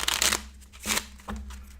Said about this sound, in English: So we just give them a nice shuffle into the deck.